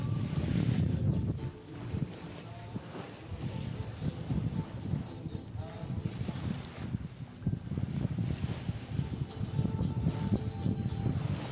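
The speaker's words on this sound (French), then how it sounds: "on est en croisement avec un bateau qui va passer tout près" Another boat's engine rumbles low as it passes close by a sailboat, under wind buffeting the microphone and the wash of water.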